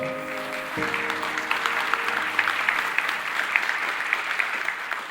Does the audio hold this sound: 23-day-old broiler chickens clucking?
no